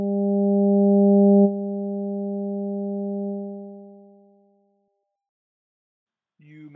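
A synthesized tone from Ableton Operator's additive synth, built from stacked pure harmonics, holds steady and then fades out slowly under an altered ADSR envelope. A brief, faint different synth note follows at the end.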